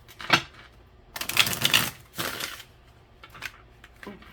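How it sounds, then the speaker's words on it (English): Bursts of crisp, papery rustling and riffling as tarot cards are shuffled several times in quick, uneven handfuls, fairly close. "I think we're going to do like one more shuffle."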